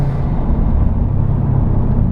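Subaru engine with an Accessport Stage 2 tune revving under part throttle, a steady loud low rumble heard from inside the car with no talk.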